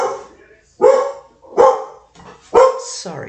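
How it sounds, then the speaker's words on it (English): Dogs barking at close range in three loud, separate bursts spread over a few seconds, with a softer whine or yelp trailing the last one. "What are you barking at?"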